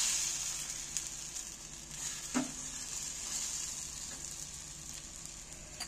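Egg paratha batter sizzles steadily in a hot pan for breakfast while a ladle stirs it, with a few soft scraping clicks and one brief louder knock near the middle, close and fairly quiet, with no talking.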